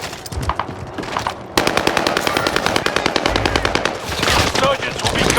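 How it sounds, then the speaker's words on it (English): Rapid automatic gunfire rattles in Call of Duty: Warzone Vanguard on Rebirth Island, loud, close bursts of machine-gun shots in quick rhythm, with a voice speaking over part of it. "I'm under fire!"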